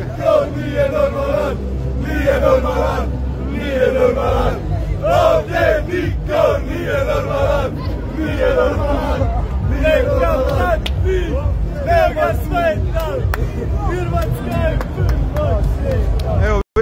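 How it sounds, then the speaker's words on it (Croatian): Croatian football fans celebrate a victory over Morocco outside Khalifa stadium in Doha, a loud, dense crowd of cheering, chanting and shouting voices that carries on without a break. "Evo, vidite kako hrvatski navijači slave pobjedu nad Marokom"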